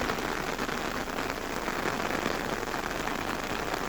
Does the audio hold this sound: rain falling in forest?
yes